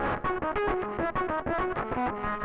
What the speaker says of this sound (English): it's just CV-controlled distortion, just CV-controlled dirt